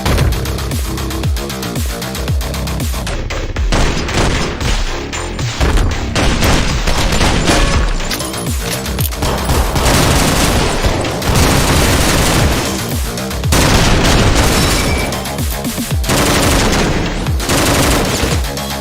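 Rapid gunfire from a pistol in a roguelike top-down shooter in the style of Hotline Miami: dense, loud bursts of shots and booms pile up almost without pause over the whole stretch.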